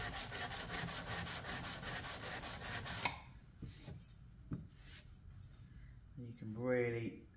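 A blade is sharpened on its bevel side with rapid, regular rasping strokes for about three seconds. Sparse scraping and faint voice-like sounds follow.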